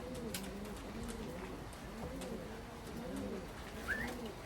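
A young racing pigeon coos softly and repeatedly near the loft after a 183 km race. The low, rolling coos are faint and steady, with a brief higher chirp near the end.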